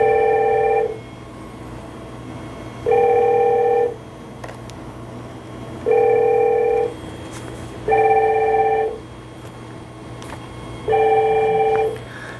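An IP phone on an Asterisk PBX rings after an extension is dialed, sounding a steady electronic ring in evenly spaced bursts about every three seconds, loud and close with no talk.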